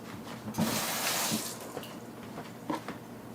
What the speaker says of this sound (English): Gonna give it a quick rinse.